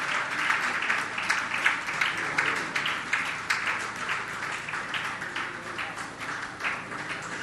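An audience at a Jain religious discourse applauds steadily, a dense wash of clapping that holds at an even level throughout.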